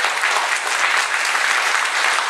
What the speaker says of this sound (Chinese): 我们再次给他掌声鼓励鼓励。